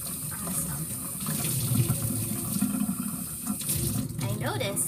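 Water streams from a tap while a paint sponge is rinsed and squeezed in a studio sink during clean-up. The rush is steady and close, with sloshing and splashes near the end.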